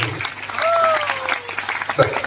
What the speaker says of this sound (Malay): Tepuk tangan untuk Indonesia